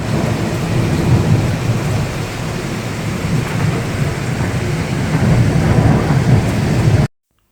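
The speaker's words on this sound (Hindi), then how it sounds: "मौसम की मैंने आपको इसी तरह आवाज़ सुनाई है ताकि आप ज़रा आपको आइडिया हो कि यार यहाँ पे इतनी हैवी रेन थी रात को" Heavy nighttime rain pours down steadily, with deep rolling thunder rumbling underneath for the full length before it cuts off abruptly. No one speaks.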